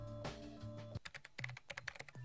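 Computer keyboard typing as a sound effect in the Collar X Malice game, a quick run of crisp, closely spaced key clicks after a sustained musical tone cuts off.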